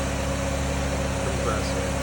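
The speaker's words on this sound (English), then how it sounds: "We have an engaged spinning" A car engine idles steadily with its A/C compressor engaged and spinning, a continuous low hum and drone with no speech over it.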